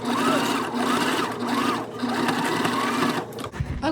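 A sewing machine runs steadily, stitching closed the sides of a fabric bag at an eighth-inch seam, a loud continuous whir that pulses slightly and breaks off near the end.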